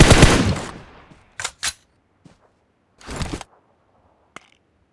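Gunshots in the PUBG video game on the Livik map: a loud close burst that rings and fades, then several short, sharper shots spaced apart against near silence.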